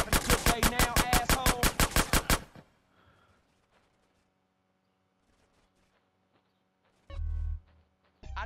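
Rapid automatic gunfire in Grand Theft Auto: San Andreas Definitive Edition, a loud burst of about a dozen evenly spaced shots that stops abruptly, followed by near quiet and then short low thumps.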